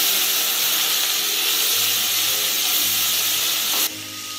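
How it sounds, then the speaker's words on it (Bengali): Vegetables with salt fry in a pan for vegetable khichuri, giving a steady close sizzle and hiss that drops off near the end. "এবার এটা নাড়াচাড়া করে একটু ভেজে নেব।"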